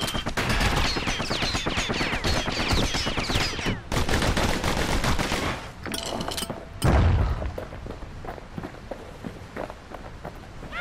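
Enemy gunfire in the video game Bastion, dense rapid volleys of shots with running footsteps and game effects, loud and continuous before a brief lull and a heavy boom.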